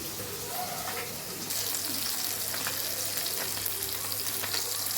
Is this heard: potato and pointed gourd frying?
yes